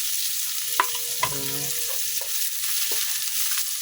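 Onions sauté in rendered pork fat for pinakbet with a steady hiss of frying, broken by a few sharp clacks of a spoon against the pan and a short scraping stir, without any talking.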